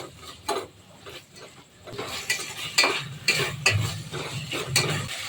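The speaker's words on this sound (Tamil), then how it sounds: "இப்போ இது நல்லா மிக்ஸ் பண்ணி எடுத்துக்கலாம்." Chopped tomatoes, green chilli and mint are mixed in a pan for fish biryani. A metal spoon clinks and scrapes against the pan in uneven strokes over a soft, low sizzle, and nobody speaks.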